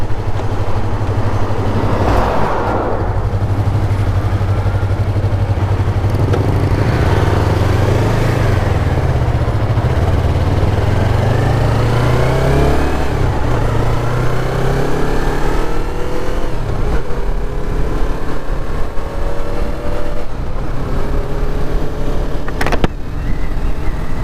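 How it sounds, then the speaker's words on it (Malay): A loud Yamaha Y15ZR motorcycle engine runs steadily and rises and falls in pitch as it revs, filling the whole stretch with a continuous roar. "Alhamdulillah motor akhirnya keluar juga. So inilah motor barunya,"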